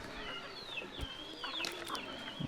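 Aseel chickens on a breeding farm making soft, scattered clucks and short chirpy calls at close range, fairly quiet, with no speech.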